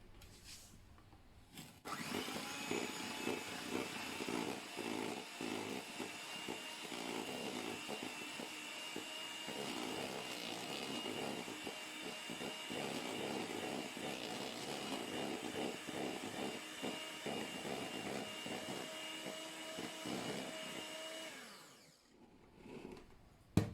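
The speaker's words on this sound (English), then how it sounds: "In this bowl I have 110 grams of caster sugar and 4 egg yolks, and I'm just going to whisk them together." Caster sugar and egg yolks are whisked together in a bowl for lemon balm ice cream, a fast, continuous scraping and rattling rhythm that runs for about twenty seconds before stopping abruptly.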